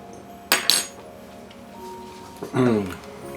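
Spoon knocking and scraping in a pot of white sauce for seafood lasagna, two brief metallic clinks followed by a longer clattering scrape, close and moderately loud.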